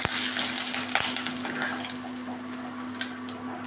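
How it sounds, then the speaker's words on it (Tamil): Mustard seeds and curry leaves crackle and sizzle in hot oil for a tempering, a dense, loud frying hiss close by that eases slightly toward the end, with no talking. "எண்ணெய் கடுகு போட்டு கருவேப்பிலை போட்டு தாளித்து கொட்டியாச்சுங்க"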